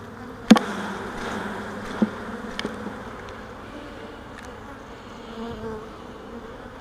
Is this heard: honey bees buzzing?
yes